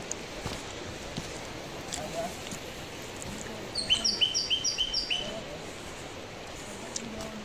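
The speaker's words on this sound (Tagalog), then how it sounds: "Yung huni ng ibon, nakaka-relax." Small birds chirp in a short run of repeated high calls amid a steady rush of water near Steavenson Falls in Marysville, Victoria, with a few faint scattered tweets before and after.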